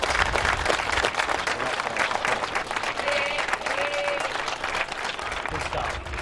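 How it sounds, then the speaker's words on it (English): A club audience gives the three winners a hearty round of applause at an awards presentation. The clapping is loud and sustained, with a few brief voices or whistles rising out of the crowd. "I think a massive round of applause for these 3 gentlemen."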